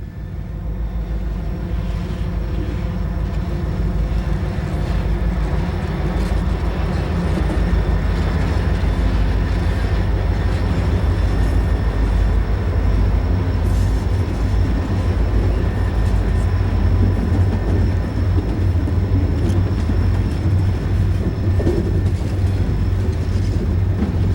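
A long, heavy rumble of a WC freight train rolling past on the Shawano subdivision, with steady low clatter of wheels on rails building slightly louder throughout, no voices.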